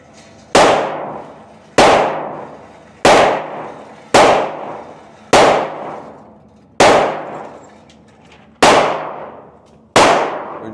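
Seven loud gunshots ring out one by one at an outdoor shooting range, each a sharp crack with a decaying echo, spaced roughly a second and a half apart.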